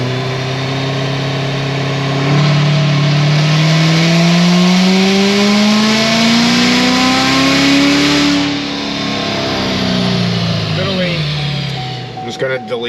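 A 950HP Chevrolet Corvette C7 Z06 on pump gas and E, fitted with a stock tire, revs and accelerates hard in a loud, rising engine pull that tapers off, with a voice speaking over it.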